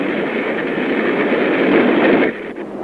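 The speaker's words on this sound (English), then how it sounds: "That's a real train with people on it." A real passenger train rumbles past close by, a steady broad roar of rail noise that holds for over two seconds before easing off near the end.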